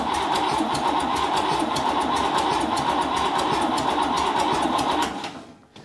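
A Buick Nailhead V8 in a rail dragster fires up and runs steadily for about five seconds, a loud, rough, rapid mechanical clatter, then cuts out and dies away.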